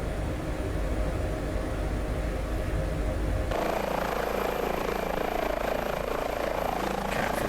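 Airbus H145 helicopter hovering in Microsoft Flight Simulator 2020, a constant loud rotor and turbine drone that shifts abruptly to a brighter, harsher tone partway through, with no voices.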